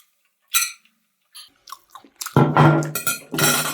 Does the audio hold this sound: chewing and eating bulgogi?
yes